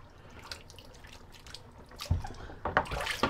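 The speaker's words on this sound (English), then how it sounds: "let's empty good old Sigmund the Sea Monster sink" Water draining from a bathroom sink after wet shaving, with quiet trickles and drips that swell into louder gurgling and splashing toward the end.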